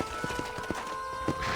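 Horse hooves clip-clopping in the Western video game Red Dead Redemption, a run of evenly spaced, fairly soft thuds over a steady hum of game ambience.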